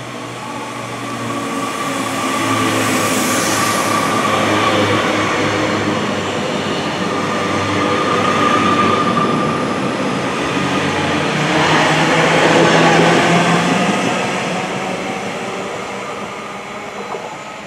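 A Class 311 electric train at Alderley Edge Railway Station, a steady rumbling roar with a faint whine that swells and fades twice as it runs past nearby, no talking.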